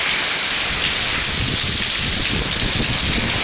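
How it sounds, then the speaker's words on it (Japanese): Heavy rain with water pouring from a clogged garage gutter during a nighttime storm in late August: a dense, loud, continuous roar of rain and splashing water with no pauses. "ガレージなんですが、ゴミが溜まってと雨どいから水がジャバジャバ来てます"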